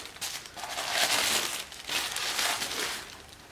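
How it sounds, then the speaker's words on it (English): Wrapping paper being torn and crinkled from a gift, loud and close, in two long bursts of rustling with a brief lull between. "Let me unwrap it for you guys."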